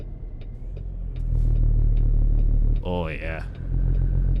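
A Cummins N14 diesel in a custom Kenworth W900 truck in American Truck Simulator rumbles loud and deep, swelling as it revs hard and holding steady, while a man briefly exclaims over it.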